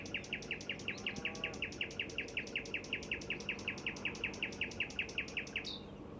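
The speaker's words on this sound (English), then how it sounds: "It's late at night and I'm listening to a nightingale." A male nightingale sings late at night, a rapid, regular series of repeated chirping notes, about five per second, moderately faint over quiet background hiss, with no talk.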